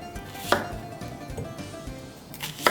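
A knife cuts onions in half on a board while making Turkish fava meze, with a few sharp, distinct cuts and softer knocks in between, close and fairly quiet.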